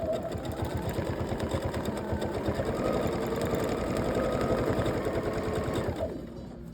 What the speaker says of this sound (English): Let's sew this pretty little flower on here.